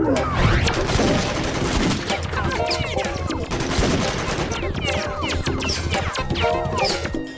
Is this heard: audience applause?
no